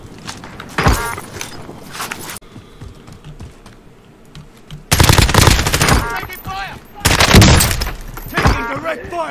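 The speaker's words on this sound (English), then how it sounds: "Taking direct fire!" Loud rapid automatic gunfire from the Warzone video game comes in dense bursts near the start and again in the second half, with a quieter gap between them.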